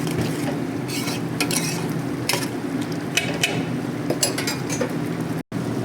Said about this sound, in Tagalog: Haluin natin. Haluin na, haluin.